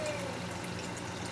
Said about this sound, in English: Gonna add some hot water to that, just to cover them.